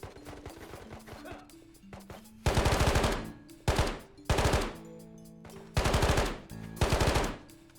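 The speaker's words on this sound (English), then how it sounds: "Did I seriously win that gunfight with a pistol?" Gunfire in the Tabor shooter video game, including a pistol gunfight: loud, close bursts of rapid shots in several separate volleys with short pauses between them, over a low rumbling background.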